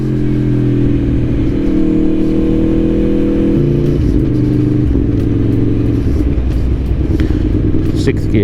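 A 2021 Aprilia Tuono V4 Factory motorcycle engine revving in first gear, loud and close, its deep throbbing tone stepping between pitches as the throttle rises and falls, with wind buffeting and clatter over it.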